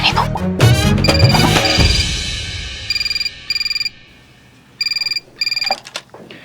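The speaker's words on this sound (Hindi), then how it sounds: "नहीं आने वाला डीएसपी सर का फोन, रहने दो।" A telephone rings at a women's police station in Lucknow: two pairs of electronic ring bursts, loud and close, after a busy, noisy opening.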